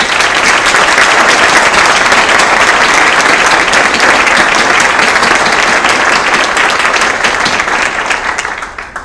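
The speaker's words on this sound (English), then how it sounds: "I just want to give a round of applause to our law enforcement officers here." Sustained, loud applause from an audience at an Outstanding Citizen Awards ceremony, honoring law enforcement officers, dense and steady for about nine seconds before tapering off at the end.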